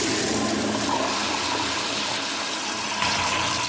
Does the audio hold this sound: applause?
no